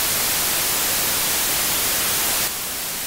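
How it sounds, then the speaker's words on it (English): Loud, steady hiss of synthesized white noise in Pure Data, constant, then drops slightly in level near the end. "I'll use this noise that has all frequencies in it."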